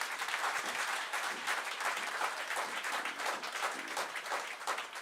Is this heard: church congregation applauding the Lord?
yes